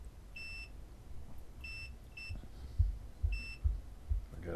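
Four short, high electronic beeps from a multimeter continuity test, close by and evenly pitched, with a few soft handling thumps near the end.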